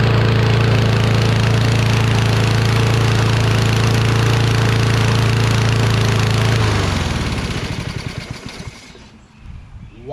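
A Kohler engine on a Toro Recycler XT675 mower runs loudly with a steady mechanical drone, then winds down and cuts out near the end.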